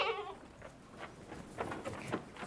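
A goat bleats in a village setting in Sohag, Egypt, giving a short wavering cry at the start, followed by faint rustling and indistinct background sounds.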